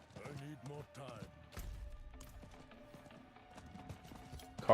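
A horse's hooves clip-clop in a quick, soft galloping rhythm in a video game, faint behind someone talking over it.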